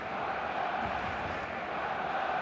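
A stadium crowd in the football video game eFootball, a steady, dense roar of many voices holding at an even level throughout, with no distinct cheers or peaks standing out.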